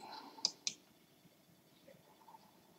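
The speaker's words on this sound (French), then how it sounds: "Je clique sur ajouter." Two quick, light computer mouse clicks close together near the start, then a quiet room with faint background noise.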